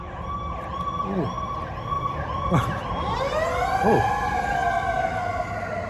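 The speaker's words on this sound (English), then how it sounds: "ambulance just went by." An ambulance siren wails past along a street in Peru, loud and close, its rising and falling tones sweeping downward in pitch as it goes by, with a voice briefly heard over it.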